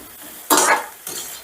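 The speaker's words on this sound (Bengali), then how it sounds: "এবারে আমি ঘুরিয়ে ফিরিয়ে বেশ লাল লাল করে বড়াগুলো ভেজে নেব, মানে পকোড়াগুলো ভেজে নেব।" Semolina pakoras turn in hot oil, giving two bursts of bright sizzling and clattering as they are stirred, each fading back to a quieter hiss.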